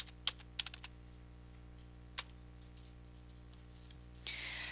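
A computer keyboard as prices are entered into an Excel spreadsheet: a few quiet, scattered key clicks near the start and one more around two seconds, then a soft steady hiss.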